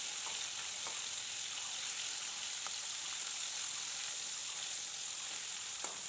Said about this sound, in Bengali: মাছটা খুব ভালো করে ভাজা করে নিয়েছি